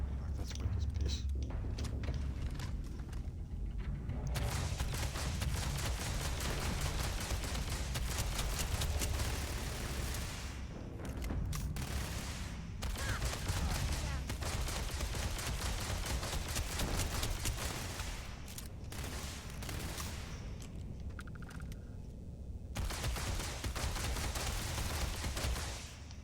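Automated turret gunfire in the video game Starfield, dense bursts of shots running nearly throughout amid a busy game mix, with a voice talking at points over the fire.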